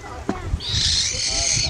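A hand-raised owl gives a drawn-out, high, wheezy call lasting about a second, loud and close, after a couple of soft knocks.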